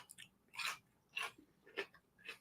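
Crunchy full sour pickle chewed close up at a deli dinner, four or five loud crisp bites in an uneven rhythm with quiet gaps between them and no talk over them.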